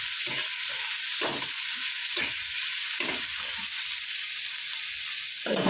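Onion, green chilli, garlic and cumin seeds sizzle steadily in hot oil, a loud continuous frying hiss broken by a few stirring scrapes, with no voices.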